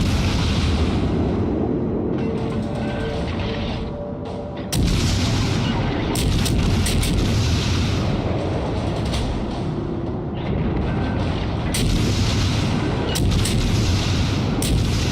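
Main guns of the tier IV American cruiser Phoenix firing in World of Warships, several loud, sharp salvos spaced a second or two apart over a steady background rumble of sea and engines.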